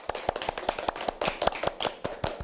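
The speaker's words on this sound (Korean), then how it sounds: "우리 박수부터 치고 시작할까요?" A diet program group at a public health center claps together, a steady patter of many hands applauding indoors at moderate volume without talk.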